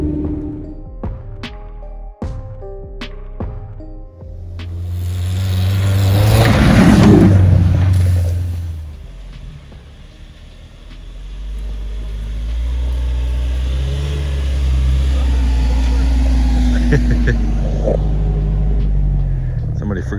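A pickup truck's engine rumbles and revs as it drives through snowy woods, the low drone swelling and easing with acceleration, preceded by a few sharp clicks and knocks, with no voices.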